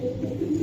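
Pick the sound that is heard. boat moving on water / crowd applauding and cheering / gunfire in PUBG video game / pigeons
pigeons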